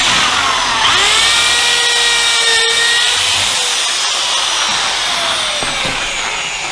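Power drill driving Kreg pocket-hole screws into wood while assembling the sides, top and bottom of a large storage unit: a loud, steady high-pitched motor whine held throughout, rising at the start, with a brief dip midway.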